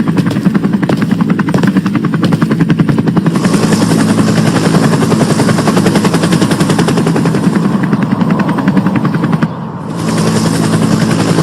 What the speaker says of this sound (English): Now that your parents are already taken off in that helicopter